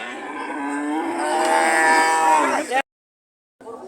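A cow moos loudly and at length nearby at a cattle market, a single drawn-out bellow, followed by a brief silence and the start of another sound.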